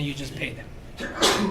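A single sharp sneeze bursts out near the end of a lecture-hall moment, following a brief stretch of someone talking.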